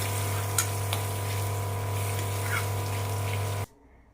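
Steady sizzle of vegetable muthiya frying in a pan with ghee added, a continuous crackling hiss with a low hum underneath that cuts off abruptly near the end.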